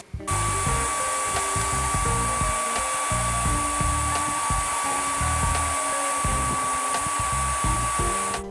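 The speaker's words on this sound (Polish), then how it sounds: "Suszarka do włosów" A hair dryer powered from an Andes 1500 portable power station, a loud steady whooshing roar with a constant high whine, running continuously from start to end with no talk.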